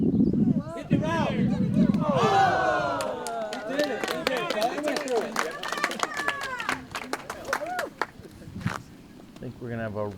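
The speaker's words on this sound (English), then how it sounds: "I think we're gonna have a rowdy cheering section." Spectators cheer, whoop and clap for a disc golf charity skins match, a lively close crowd with many overlapping voices and scattered claps that swell, then thin out toward the end.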